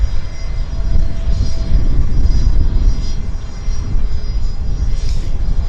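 An Alaska Airlines jet in a special logo livery, a Washington State University scheme, rumbles steadily and loudly at Vancouver airport with a broad low roar and faint high whine throughout, no voices heard.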